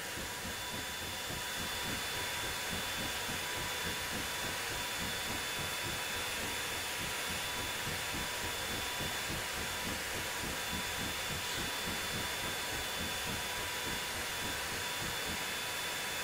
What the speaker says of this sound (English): Just steam chuffing for the win.